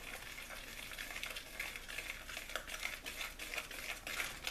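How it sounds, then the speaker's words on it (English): A spoon stirs vanilla pudding mixture in a pot, making a soft, continuous scraping and swishing with faint clinks, low in level and steady for a few seconds with no talking. "put a little bit in, stir it around"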